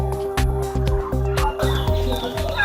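Female laying turkeys clucking in a laying pen on a turkey farm, a close, steady run of short repeated clucks and calls with a constant background hum.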